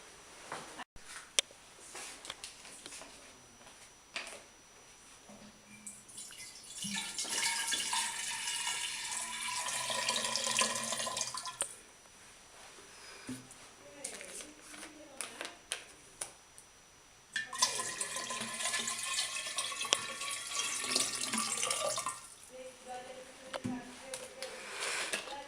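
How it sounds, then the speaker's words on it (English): Cold water poured into a large glass jar, heard as two sustained rushing, splashing pours separated by a quieter pause, close and moderately loud. "We put the cold water in large glass jar."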